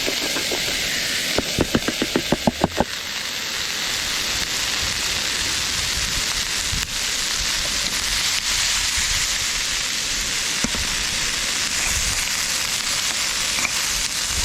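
Chopped onion and garlic fry in a camping pot over a fire outdoors in cold weather, giving a steady, dense sizzle throughout, with a few sharp clicks near the start.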